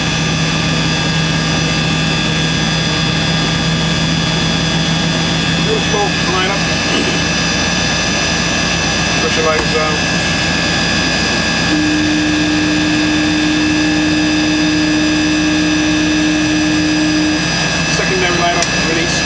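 De Havilland Twin Otter turboprop engine starting, a loud continuous whine and roar with steady tonal hums that holds level throughout, close and heavy, with faint talk buried beneath it.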